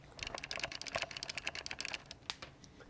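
A clicky joystick on a handheld game is worked in a quick, irregular run of sharp close clicks, alone and fairly quiet.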